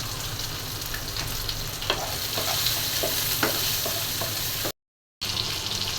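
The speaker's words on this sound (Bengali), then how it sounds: "বেগুনটা একটু ভেজে নেব।" Eggplant frying in a pan with dried chili powder, turmeric, coriander powder and salt, a steady close sizzle with scraping stirring clicks throughout and a brief cut to silence near the end.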